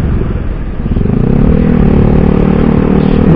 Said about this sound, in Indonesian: Jadi untuk suaranya ketika digeber kayak gini tuh menurut gua sih mirip-mirip suara 2 silindernya ini ya R25